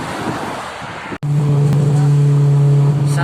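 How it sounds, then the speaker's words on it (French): A Honda Civic approaches on the road. After a brief drop-out, a loud, close, steady engine hum takes over from rumbling outdoor noise. "Ça y est, on a trouvé une petite voiture."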